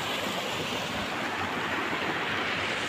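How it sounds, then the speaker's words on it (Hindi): A waterfall pours steadily along a rain-soaked Himalayan pilgrimage route between Gangotri and Yamunotri, a dense, continuous broadband rush of falling water with no voices, loud and close throughout. "भाई, कैसे झरना बह रहा है बढ़िया।"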